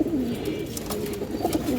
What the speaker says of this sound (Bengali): দুইটা কবুতর ডাক ভালো আছে